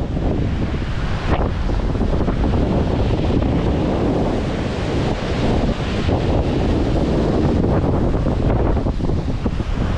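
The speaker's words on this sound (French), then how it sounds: "Allez, il y a trop de vent." Strong, steady wind at the seaside in Águilas, Spain roars across the microphone beside crashing surf, a continuous loud rush of air and waves with no voices.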